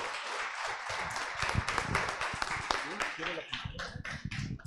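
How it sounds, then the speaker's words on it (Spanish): An audience at a data and city innovation talk applauds to welcome the evening's second speaker, with a few seconds of dense clapping mixed with voices and trailing into scattered claps. "por favor un aplauso para recibir a nuestro segundo speaker de la noche de hoy."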